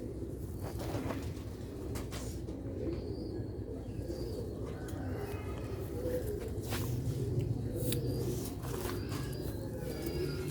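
Sialkoti rooftop pigeons, including a silver-breed hen, coo softly in a low, murmuring layer, with faint chirps and shuffling steps against quiet background noise.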